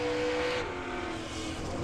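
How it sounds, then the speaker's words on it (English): Drag racing car at a Festival of Power event revving on and off the throttle, a loud continuous engine roar heard from a distance with a slight drop and rise in intensity. "we're going to get to hear again the off and on the throttle"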